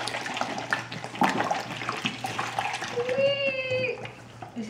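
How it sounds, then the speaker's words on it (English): Liquid is poured into a toy volcano, a gurgling, splashing trickle amid fizzing, with a brief tonal squeak near the end; people talk over it. "Now we shall pour this liquid into the volcano."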